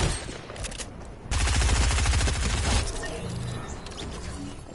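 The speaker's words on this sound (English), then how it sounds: "I'm gonna kill this guy with a harpoon gun." Harpoon gun shots in the Fortnite battle royale team rumble mode, a loud burst of heavy gunfire with a dense rapid volley in the middle, then softer mechanical clatter.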